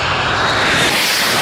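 An Aerosucre cargo airplane makes a super low pass over a Colombian runway, its engines a loud, close, broadband roar that holds steady for the short moment.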